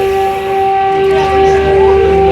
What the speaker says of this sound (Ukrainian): Повітряна тривога, все біжимо.